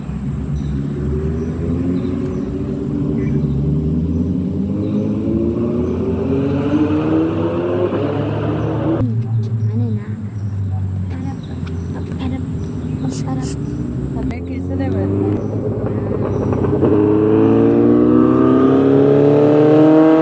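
Cars racing along the winding Tamhini Ghat mountain road, engines loud and close, repeatedly revving and rising in pitch as they accelerate through the bends, with brief gaps between runs.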